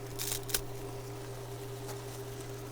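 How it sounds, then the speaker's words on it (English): A couple of quick, crisp snaps of dry spaghetti breaking close up inside a camper van, followed by a faint steady hum. "I'm going to break the noodles"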